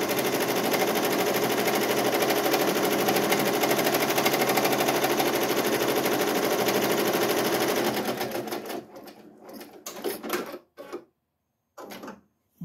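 An embroidery machine stitches an outline onto vinyl appliqué with a loud, fast, steady mechanical chatter for about eight seconds, then slows into a few short bursts and stops with brief pauses between them.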